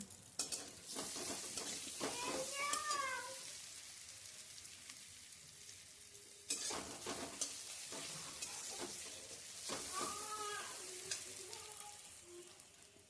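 Prawns frying in mustard oil for a Bengali mustard-flower paste, a soft continuous sizzle with stirring and scraping in a pan, fairly quiet and close, with faint tonal squeaks from the utensil.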